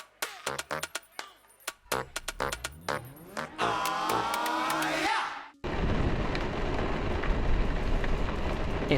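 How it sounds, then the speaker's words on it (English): Heavy rain pours down during a thunderstorm on a Friday morning in Columbus, Georgia, heard as a dense, continuous wash of noise in the second half after a stretch of scattered knocks and clatter. "it is pouring rain, not just raining, but thunder, lightning happening right now."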